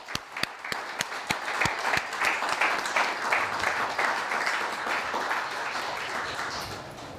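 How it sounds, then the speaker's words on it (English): A few sharp individual claps open, then a veterans post audience at its 100th anniversary salute in Ludlow, Vermont breaks into sustained, full applause that holds steady before slowly easing. "let's all give them a big round of applause"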